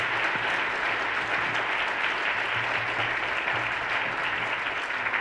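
Audience applause after a seminar presentation, a steady full burst of clapping from many people in a room, sustained throughout.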